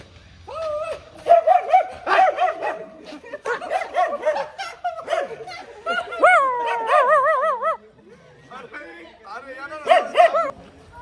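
A dog yips, barks and whines in short bursts, close and fairly loud, mixed with people talking nearby.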